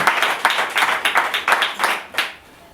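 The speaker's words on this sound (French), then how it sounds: "On peut applaudir pour lui." Audience at a general assembly claps for an absent deputy, a fairly close, lively patter of hands from a smallish group, pulsing in loose waves before stopping abruptly.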